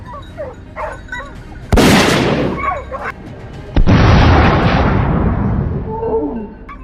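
Two loud rifle shots fired at wild boars during a hunt, each a sharp blast with a long rumbling decay, the second stronger and longer, with dogs barking and whimpering before and between them.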